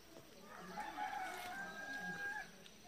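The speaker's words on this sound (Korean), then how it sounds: "닭은 여전히 시도 때도 없이 우네요." A rooster crows at intervals in a backyard vegetable garden among apple and pear trees, a drawn-out call heard at moderate distance with quiet outdoor ambience and no talking.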